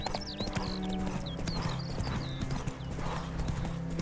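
Horse hooves clip-clop in a steady trotting rhythm in The Witcher 3, close and clear, with brief bird chirps and game ambience around them.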